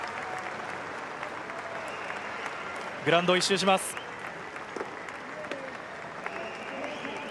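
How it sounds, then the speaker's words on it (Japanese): Children at a baseball spring training camp at Okinawa Cellular Stadium Naha applaud a home run with finger whistles. The loud burst of clapping lasts about a second, rising out of steady stadium ambience while a commentator talks. "今日週末駆けつけた子どもたちからも拍手が送られます。"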